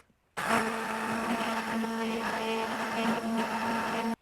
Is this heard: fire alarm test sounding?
no